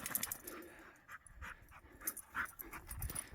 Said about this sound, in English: That's one happy dog right there.